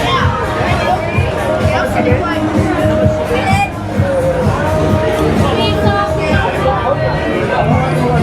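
A dense crowd fills a busy, narrow nightlife street in Hanoi with continuous overlapping chatter and babble from many voices, loud and close, with no break.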